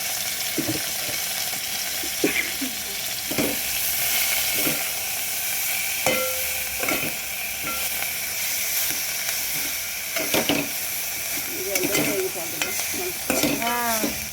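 A spoonful of cumin seeds sizzles steadily in hot oil while making tomato chutney, a continuous bright frying hiss broken by occasional stirring scrapes and clinks of a spoon against the pan.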